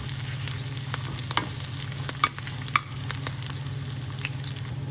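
Curry leaves and coarsely pounded garlic paste sizzle steadily in hot oil for mango chutney, with occasional scrapes and clinks of a spoon stirring the pan close by; no talking.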